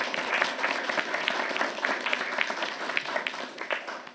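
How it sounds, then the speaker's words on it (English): Audience at a town council meeting gives a round of applause, an even spread of many hands clapping at moderate distance that tapers slightly toward the end. "actually give you a round of applause also"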